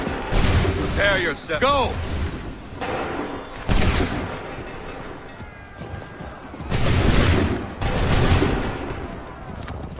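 Musket volleys in Assassin's Creed 3 at the defense of Lexington ring out in several loud, ragged bursts with gaps between them, shouted orders coming through between the shots.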